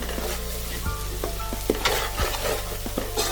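A fish curry base sizzles steadily as it is stir-fried in a pan, with intermittent scraping and clinking stir strokes over a constant low hum, close and continuous, no talking.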